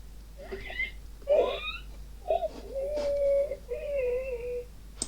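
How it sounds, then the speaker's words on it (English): Sample zombie sound effects: short, strained groans, wavering moans and whimpering vocal noises in a quick sequence, fairly quiet over a faint steady hum. "I've got the sample sound effects for zombies"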